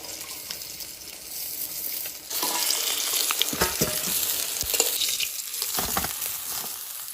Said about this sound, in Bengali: এরকম করে সব মাছগুলো ভেজে নেব।